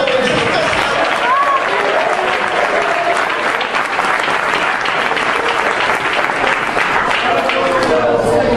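A church congregation claps steadily throughout a worship service, dense and loud, with voices mixed into the clapping.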